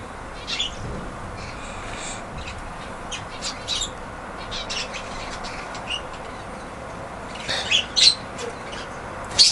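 Pet budgies feed on a treat while chirping and squawking, small scattered calls and bright squeaks over a constant background hiss, with a few louder sharp squawks near the end.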